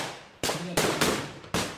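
Rifle gunfire at a reenactment of a battle near the Lviv Citadel, with four sharp, loud shots ringing out at uneven intervals, each leaving a decaying echo.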